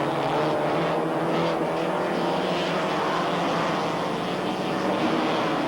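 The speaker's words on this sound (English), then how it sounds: "Up the back straight, Bill Adam is glued to my bumper and using the slipstream." Porsche 944 race cars in the 1986 Canadian Rothmans Porsche 944 series running flat out up the back straight, one car closely slipstreaming another, a loud sustained engine drone that holds steady throughout.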